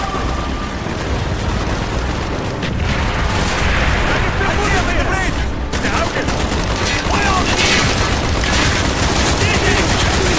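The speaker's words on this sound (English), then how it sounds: "Mortars inbound!" Mortar fire in the video game Call of Duty Black Ops: dense, continuous battle noise of booming impacts and rapid gunfire, loud throughout, with shouted voices mixed in.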